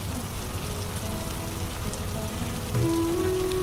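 Steady rain falls outside, a continuous dense hiss of drops with no pauses, heard alone without voices.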